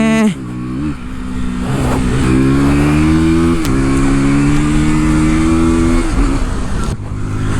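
A KTM Duke 160 motorcycle engine accelerates hard through the gears, loud and close, with rising revs broken by quick shift drops, then easing off near the end.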